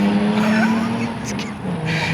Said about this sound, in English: That motorcycle.